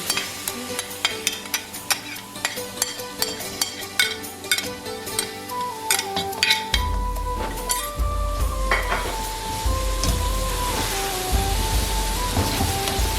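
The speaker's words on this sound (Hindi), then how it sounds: "इसी स्टेज में हम इसमें डाल देंगे चिकन जो हमने मैरिनेट करके रखा था, ताकि प्याज के साथ वो भी अच्छे से कुक हो जाए" Marinated chicken added to browned onions in a pot, with rhythmic stirring clatter and then a steadier sizzle of frying, all under background music with no talking.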